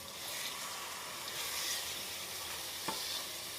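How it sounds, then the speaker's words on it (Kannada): A capsicum mixture hits hot oil in a pan and sizzles loudly and steadily, a dense continuous crackle with one brief sharper spatter near the end. "ಎಣ್ಣೆ ಕಾಯ್ದಿದೆ, ಇವಾಗ ಕಲಸಿರೋದನ್ನ ಹಾಕ್ತಾಯಿದ್ದೀವಿ ಬಾಣಲಿ ಒಳಗಡೆ."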